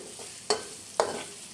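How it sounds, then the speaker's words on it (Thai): Two quick scraping stirs of sliced ginger and chicken fat sizzling over low heat, spaced about half a second apart, over a soft, steady frying hiss. "คอยผัดไปจนหอม"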